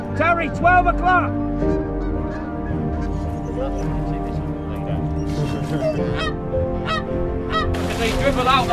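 Wild geese honk in a thick, overlapping chorus while flying in to a wildfowling spot, the calls loud and near throughout, with a sharp burst of noise near the end.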